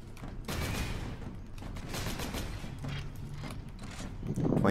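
Heavy bolter suppressing fire in the video game Space Marine, a dense rattling fusillade of rapid shots that runs almost continuously, with players talking over the gunfire.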